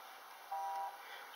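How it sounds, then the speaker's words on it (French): A car horn blares once in Farming Simulator 17, a steady tone lasting about half a second over a constant engine-like drone, moderately loud and close. "Donc il y a les klaxons aussi"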